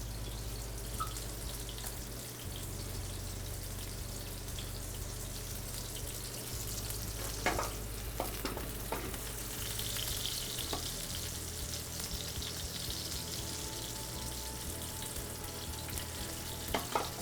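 Monkfish fillet, flipped, sizzles steadily in a hot pan for a piccata, a continuous close frying hiss with a few brief clinks and stirring sounds partway through, no talking.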